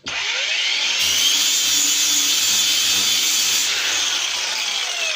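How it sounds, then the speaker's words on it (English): A Makita battery angle grinder fitted with a sanding disc sands a piece of wood, a loud, steady high whine with a rough abrasive hiss that runs unbroken for about five seconds, close up and with no talking. "With this sort of sanding disc, very quickly you can sand wood down"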